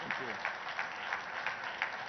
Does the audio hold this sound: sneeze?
no